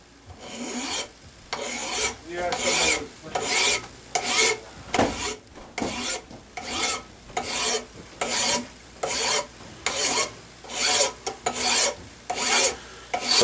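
A file rasping back and forth to round the back of a guitar nut, steady rhythmic strokes about one per second, close and loud, with no talking.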